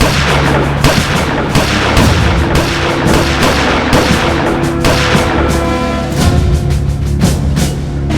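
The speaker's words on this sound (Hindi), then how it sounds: "फायर।" Rapid gunfire in dense bursts, loud and close, with sharp repeated cracks and booming reports running almost continuously without talk.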